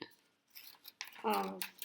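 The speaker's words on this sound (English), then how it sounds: "take your scissors and cut the picture" Scissors snipping through a paper picture, cut into squares, with a few short close crisp cuts spread across two seconds; a soft voice is heard faintly in the background.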